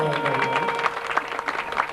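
Audience clapping at a village jagran devotional night in Hailler, Jalandhar: dense, steady applause mixed with music and singing, loud and close throughout.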